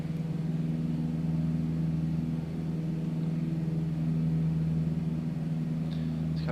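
A Cessna 152 piston engine in Microsoft Flight Simulator drones at a steady cruise setting, a constant low hum with no change in pitch or loudness and no voices.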